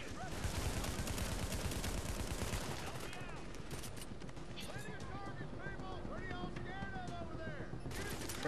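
Dense, continuous gunfire in The Division's Grand Central Station mission, rapid automatic bursts crackling throughout with a player talking over parts of the fight.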